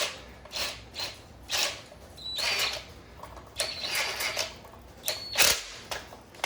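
Chain adjuster on a Yamaha Banshee quad being tightened with hand tools: intermittent close metallic ratcheting, scraping and clinking in short bursts, with quiet gaps between.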